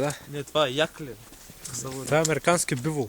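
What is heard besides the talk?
No distinct noise like a dog, phone or traffic.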